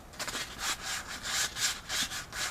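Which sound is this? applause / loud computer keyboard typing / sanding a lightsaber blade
sanding a lightsaber blade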